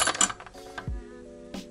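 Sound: removing the spare tire bolt by hand in a Mazda MX5 Miata trunk

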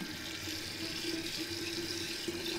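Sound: water poured over barley in a jar

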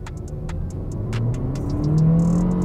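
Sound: SsangYong Korando accelerating at full throttle in Sport mode

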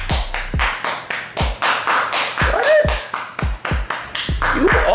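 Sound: clapping

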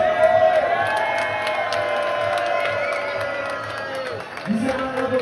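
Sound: crowd applause and cheering after cup win

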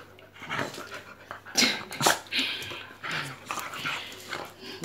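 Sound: dogs whimpering during play

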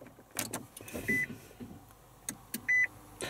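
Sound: Nissan Leaf electric car being started

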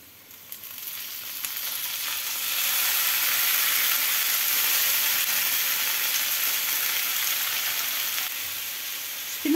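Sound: spinach sizzling with cooked potatoes in pan

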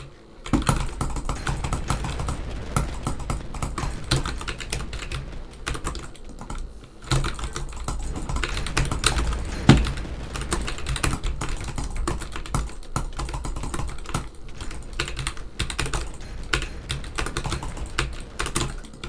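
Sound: computer keyboard being moved and typed on

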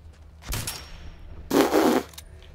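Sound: gunfire in the video game Fallout 4

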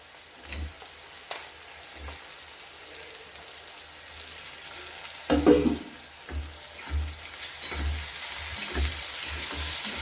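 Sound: tomatoes sautéing in a pan for a dried prawn dish

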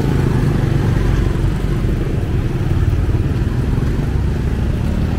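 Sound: motorbike in traffic in Vientiane

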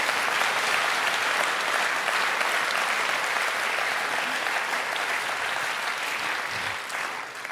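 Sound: audience applause

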